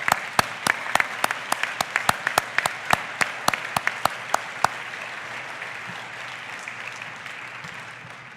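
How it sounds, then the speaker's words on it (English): Audience applause at a gala, with a close, steady run of sharp individual claps over a wash of crowd clapping that thins out and fades toward the end. "I'd like to give a round of applause to Mike up there."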